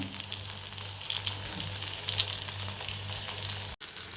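Masala-coated fish fries in oil over a low-to-medium flame, giving a soft, steady sizzle that runs evenly throughout, with a brief dropout near the end and no speech.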